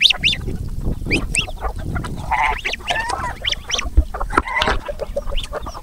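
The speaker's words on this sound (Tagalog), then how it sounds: "Ito naman yung mga gansa natin." Geese honk loudly and continuously on a farm, mixed with chickens, ducks and other fowl calling close by, with no talking.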